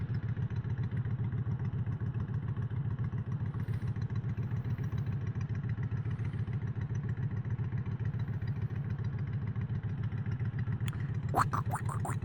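A ZX6R motorcycle engine rumbles steadily and close throughout a ride through the countryside, with a brief clatter near the end and no talk.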